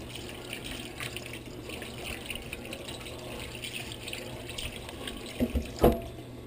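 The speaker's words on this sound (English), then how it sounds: "Rinse off your cutting board as much as you can." A cutting board used for cleaning skate is rinsed under a running tap, steady close water flow with a few louder splashes and knocks toward the end.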